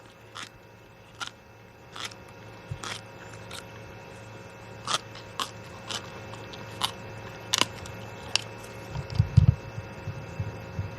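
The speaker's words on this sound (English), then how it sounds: "Listen to the noise crunching on the skin." A hyena crunches on giraffe skin: sharp, irregular crunching snaps ring out one after another over a steady low rumble, with a heavier, louder burst of tearing near the end.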